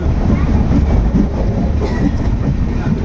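The Vivek Express runs along the track in a loud, continuous rolling rumble with clattering wheel noise, heard from inside the moving train as it takes a slight turn.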